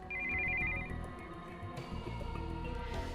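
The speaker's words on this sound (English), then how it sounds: "we heard the sound of an incoming call on the cell phone." Incoming-call ringtone on a cell phone in Steins Gate 0, a brief electronic trill near the start that fades into the busy low game soundtrack, which carries on alone afterward.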